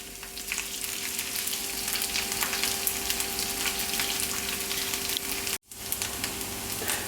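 Tuna galettes frying in a pan, a loud steady sizzle with crackling spatter and a faint constant hum underneath, cut off briefly by a sudden dropout near the end.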